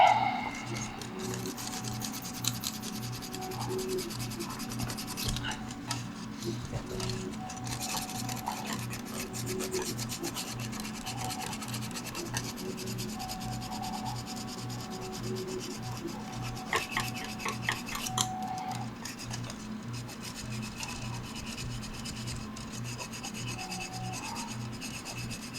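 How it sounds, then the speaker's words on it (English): 3D printer filament being sanded by hand, giving a steady, close rasping rub that repeats in even strokes for the whole stretch at moderate loudness. "sand it down a little bit more"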